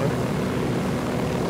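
A helicopter in the Narco Road DLC video game drones with a steady, continuous rotor and engine roar, close and even throughout, with faint voices underneath.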